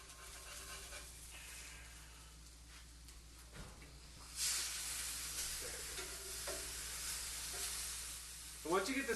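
Hashbrowns frying in a pan give a steady broadband sizzle that swells louder midway, with brief scraping and flipping noises near the end.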